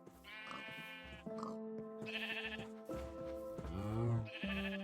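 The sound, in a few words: sheep bleating in Minecraft video game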